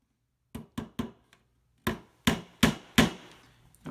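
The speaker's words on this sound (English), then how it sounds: "Get my little hammer out." A small hammer taps on an old wooden picture frame: three quick light taps, a short pause, then four firmer, louder blows, each sharp and close with a brief wooden ring.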